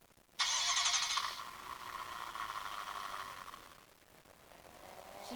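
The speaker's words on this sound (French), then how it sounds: "il y a un bruit genre tu sais, de vraie auto" Car engine in a driving school video game, a sudden revving engine note that holds steady then eases off, fairly quiet and mechanical with no talking over it.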